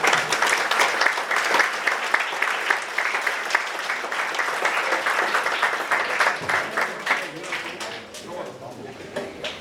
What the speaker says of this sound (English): a big round of applause for the students and once again for the veterans